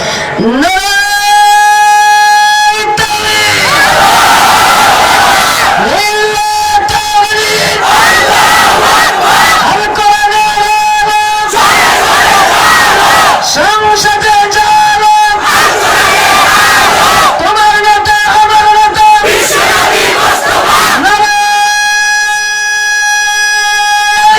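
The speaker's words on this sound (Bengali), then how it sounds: "বিবাহিত অবিবাহিত একটা বার একসঙ্গে স্লোগান দিতে চাই" A huge crowd at an Islamic mahfil in Bhola chants slogans in unison, loud and amplified. Repeated roaring calls alternate with brief pauses over a long stretch.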